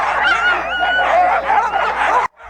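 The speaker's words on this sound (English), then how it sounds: "We might have had 30 dogs all barking at the same time." Dozens of sled dogs bark, yip and howl at once in a dense, overlapping chorus on a snowy film set, loud and close, before the din cuts off abruptly.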